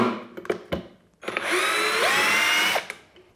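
A cheap cordless drill drives a long screw into a wooden wall stud: a few short trigger bursts, then a sustained whining run of about a second and a half that bogs and pitches down before stopping. Close, no talk.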